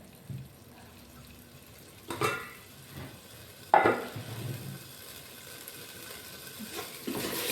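Ingredients for a chicken curry (kozhi kulambu) are stirred and fried in a pan, giving a soft sizzle broken by a few scraping stirs.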